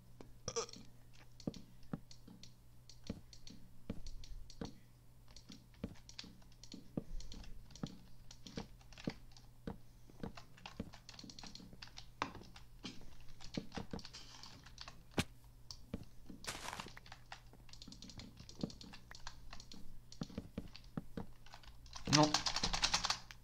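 Rapid, steady clicking of a wireless computer keyboard during a Minecraft session, close keystrokes running nearly throughout with a faint steady hum beneath and a louder burst of key presses at the end.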